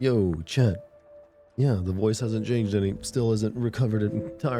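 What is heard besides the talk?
No distinct noise like a dog, phone or traffic.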